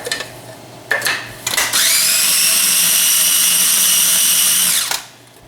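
A food processor whirs pesto with olive oil, starting with a few short loud pulses and then running as one steady, high whine for about three seconds before spinning down.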